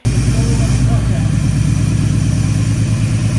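A BMW E30 M3 fitted with an S54 engine runs loud and close as the clutch is let out, a steady deep engine rumble holding throughout with no break.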